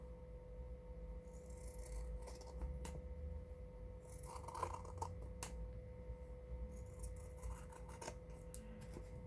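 Scissors trim paper for a Mother's Day junk journal, giving a string of quiet, crisp snips and clicks at irregular intervals over a low steady hum.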